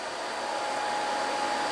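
A CNC machine upgraded with ClearPath servos runs sample part code at a 25 inches-per-minute feed with the spindle off, giving a smooth, even whir that stays constant throughout with no talk.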